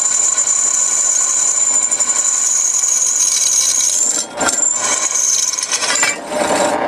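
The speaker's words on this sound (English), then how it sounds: "Drill all three holes" A drill bores holes in a metal throttle pedal, a steady high-pitched whine that shifts as the bit bites, with brief scraping breaks near the end, close and loud.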